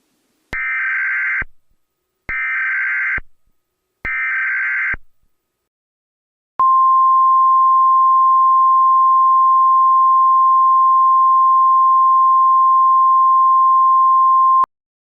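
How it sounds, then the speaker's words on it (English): Emergency Alert System alarm for a declared US national emergency: three short, loud bursts of buzzy data tones, then a single steady, piercing tone held for about eight seconds, with no voices. "Please stand by and await further instructions following the alarm tone."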